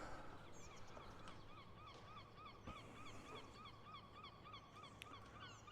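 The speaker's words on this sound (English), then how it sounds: "That bird's losing its crap over here." A bird squawks and honks in goose-like calls, rapid repeated cries faint in the distance over steady outdoor background noise on a golf course, with no speech.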